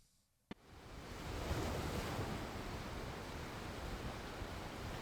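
Ocean surf recorded with a DJI Osmo camera: after a sharp click, a steady, loud wash of breaking waves and rushing water fills the scene with a constant broad roar.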